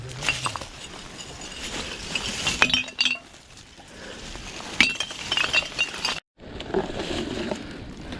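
Glass is sorted by hand during a forest cleanup: frequent sharp clinks and occasional breaking of glass, close and continuous over several seconds, with no talking.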